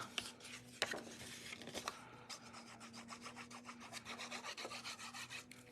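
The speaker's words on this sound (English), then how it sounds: "it sounds like they're sawing something apart" Rhythmic rasping strokes of sawing outdoors, heard faintly from indoors, steady, repeating quickly with a few sharper knocks early on; no one speaks.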